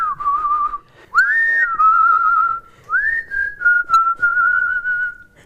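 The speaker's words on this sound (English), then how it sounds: "I just whistle along to it" A person whistles the melody of a song in a clear, close, sustained tone. The phrases rise and slide between held notes, with short pauses between them and no talking.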